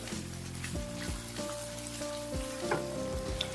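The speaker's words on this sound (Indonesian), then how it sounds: "Aduk-aduk, oseng-oseng dulu sebentar sampai pete sedikit matang atau sedikit layu." Petai beans stir-fried in simmering seasoning paste for a festive dish, giving a steady close sizzle with occasional stirring scrapes and clatters over a faint background hum.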